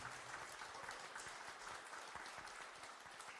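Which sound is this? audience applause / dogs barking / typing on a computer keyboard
audience applause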